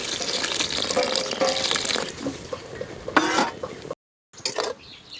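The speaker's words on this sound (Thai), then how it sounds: "เติมน้ำจังน้อยจ้ะ" Water splashes and gushes into a metal cooking pot while a frog curry is being made, close and fairly loud, with some clanking of the pot, a brief cutoff, then a short final splash.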